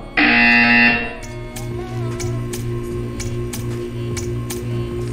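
A loud electronic buzzer sounds for about a second in the video game Portal 2, followed by a steady ticking pulse over a low mechanical hum.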